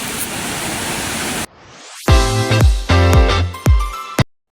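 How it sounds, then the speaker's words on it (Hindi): A steady, full roar of water pouring from Dhani waterfall in the Neelum Valley fills about a second and a half, then cuts abruptly to a rising sweep and ringing musical tones. "सीधे आबशार से पानी आ रहा है"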